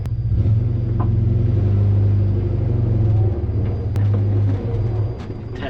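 A car with newly changed short first-gear gearing pulls away, its low engine rumble loud and steady up close, swelling slightly as it moves off, with no one talking.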